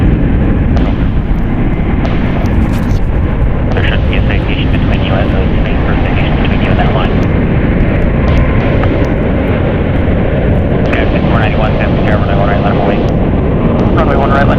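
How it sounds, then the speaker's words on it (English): A United Airlines Boeing 777-200ER heavy jet departs runway 28 left at San Francisco International, a steady broadband roar that holds loud and unbroken throughout, with faint radio voices underneath. "United Airlines Flight 35 departing on runway 28 left to Osaka."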